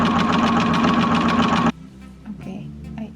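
A sewing machine runs fast and steady, stitching a wrap dress seam up close, then stops abruptly and leaves quiet handling noises.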